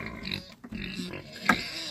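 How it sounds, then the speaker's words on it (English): Pigs grunt and snuffle close by in a farm pen, a few short rough grunts over a steady murmur of background noise, with one sharper squeal-like burst near the end. "What y'all pigs want? What y'all pigs want, huh? What do you want, pig?"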